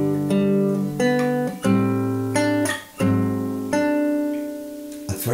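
Fingerstyle guitar plays measure eight of a song, bass notes on the sixth string with open treble strings, several distinct plucked attacks ringing into each other, close and unaccompanied.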